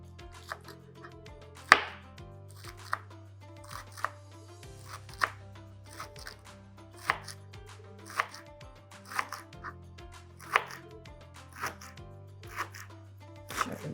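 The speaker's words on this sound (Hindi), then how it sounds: "उनखे मां थोरो अञा चॉप कंदमि" A knife chops ingredients for Sindhi biryani raita on a cutting board in a steady series of sharp, close taps, evenly spaced about a second apart, quiet against a faint low background hum.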